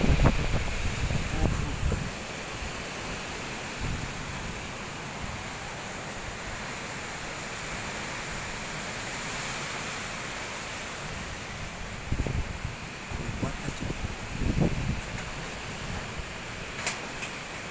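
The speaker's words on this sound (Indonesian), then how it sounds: "angin kuat" Strong wind in bad weather at Waisai, Raja Ampat, a steady rushing roar with microphone buffeting and gusty thumps, heard alone without talk.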